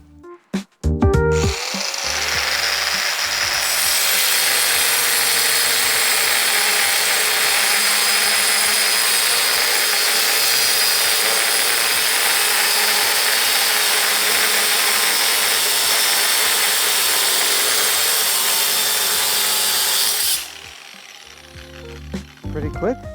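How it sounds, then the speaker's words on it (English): An angle grinder fitted with a diamond blade for metal bites into steel on a truck chassis, a loud, sustained, piercing shriek that runs for about twenty seconds before cutting out, with a few clunks at either end. "it's a diamond cutting blade, but for cutting metal in an angle grinder."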